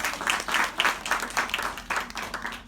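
A small audience at a community talk on a food-rescue charity claps for a staff member, a modest burst of hand claps with a loose, uneven rhythm, moderately loud and close.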